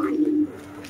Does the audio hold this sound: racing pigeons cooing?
yes